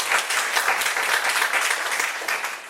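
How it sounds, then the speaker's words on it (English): An audience at a Toastmasters club anniversary meeting gives a speaker a round of applause, continuous dense clapping sustained evenly throughout and tapering slightly at the end. "let's give him a hand for a round of applause"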